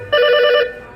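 A telephone rings once in a single loud electronic burst with steady tonal bands, then stops, leaving a quiet room.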